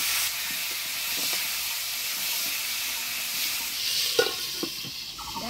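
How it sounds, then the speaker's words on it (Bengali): Pointed gourd (potol) frying in hot oil, a steady loud sizzle and hiss with a few clinks of a spatula stirring, no voices. "তেল, তেল গরম হয়ে গেছে, এবার পটলগুলা দিয়ে দিব।"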